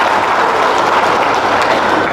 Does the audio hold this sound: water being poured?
no